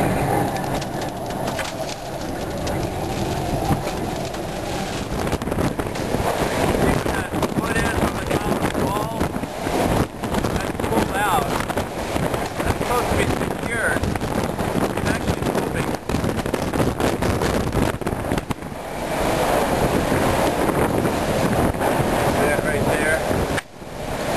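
Strong gusting wind roars during a November 2008 windstorm in Costa Rica, a loud continuous rush buffeting the microphone for the whole stretch, with faint voices now and then underneath.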